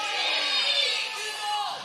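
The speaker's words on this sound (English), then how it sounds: "on the count of three, I want you to yell for what team you're going to be cheering for" A church congregation shouts Super Bowl team names together, a dense burst of many voices yelling at once, loud and sustained before tapering slightly.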